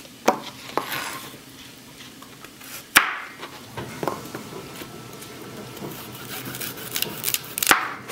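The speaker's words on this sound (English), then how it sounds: "peel the skin off of these carrots and chop them up, and I will do that right now" A knife chopping peeled carrots on a kitchen cutting board, with a few sharp knocks and irregular cutting and clattering under steady kitchen background noise and no speech.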